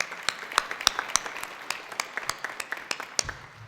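Applause from an audience at a 2015 political candidate event, a scattered run of individual claps rather than a dense roar, fairly faint and steady across the moment.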